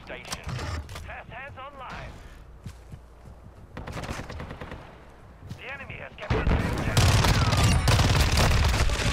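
Bursts of Fennec submachine gun fire in Call of Duty: Modern Warfare II, rapid automatic sprays that start moderate and swell into a long loud burst near the end, with a player talking over the game sounds.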